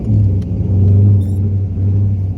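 A C5 Corvette engine running close by, a deep loud rumbling idle with slight swells in revs and no talk.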